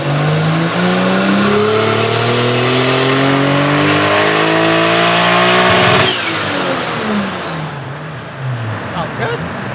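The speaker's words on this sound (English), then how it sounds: "Sean's about to hear what RB with the Magnaflow exhaust sounds like." A car with an RB engine and Magnaflow exhaust revving hard on a dyno, loud rising harmonics climbing for several seconds before the throttle drops and the engine settles to a rumbling idle.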